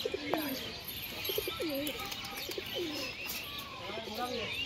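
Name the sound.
pigeons cooing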